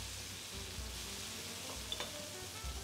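Ingredients go into a hot pan with a little oil to sauté, making a soft, steady hissing sizzle that stays faint and even throughout, over a low background hum.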